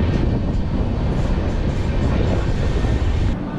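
The Bangalore-Chennai double-decker AC express pulls out of Bangarpet station, heard from on board as a steady, loud rumble of wheels and carriages. It runs continuously, then drops slightly at the very end.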